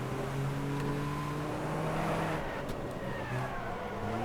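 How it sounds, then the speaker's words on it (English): Engines of racing cars in the video game Wreckfest roar continuously, with pitches rising and shifting as cars accelerate; steady and fairly loud throughout. "We've got lots of new engine sounds with the game as well now"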